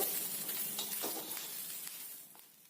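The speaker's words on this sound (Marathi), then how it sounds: "अगदी थोडस अर्धा चमचाच तेल घालायचं आणि अगदी छान पिकल्या पडण्या इतपत हे भाजून घ्यायचंय" Green chillies roasting in a small amount of oil in a pan, a steady close hiss of sizzling with faint crackles that eases off toward the end.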